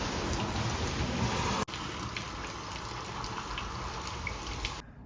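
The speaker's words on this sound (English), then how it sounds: "It's still raining." Steady rain falls outside in Seattle, a dense, even hiss of drops on surfaces filling the whole stretch, with a brief knock partway through and the sound cutting off just before the end.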